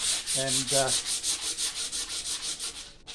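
Wood being sanded by hand with coarse 80 grit sandpaper, a close, rhythmic rasping of about a dozen quick back-and-forth strokes with no talk over it.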